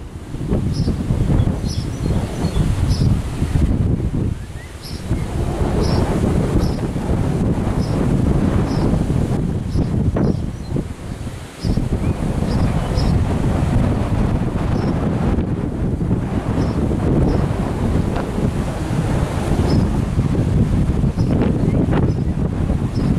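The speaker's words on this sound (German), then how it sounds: "Und es kommt der Wind jetzt." Strong wind gusts buffet the microphone under an approaching shelf cloud during a storm, a loud, continuous roaring rush with surging peaks and brief dips.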